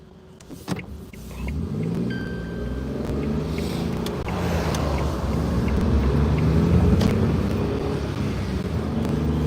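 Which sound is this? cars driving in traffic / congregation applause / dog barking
cars driving in traffic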